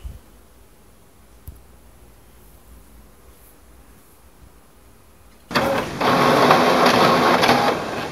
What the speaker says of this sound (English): Your document has started printing.